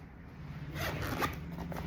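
A zipper on a leather skirt pulled in one steady zip lasting about a second, close and fairly quiet, with a soft rasping texture.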